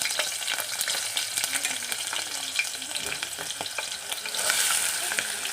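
Green chilies fry in hot oil, producing a dense, crackling sizzle close by that holds steady and swells a little toward the end.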